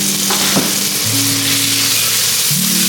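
Shaved ribeye sizzles and fries loudly in a preheated pan for a cheesesteak, a steady close crackle with a brief stirring scrape, no talk.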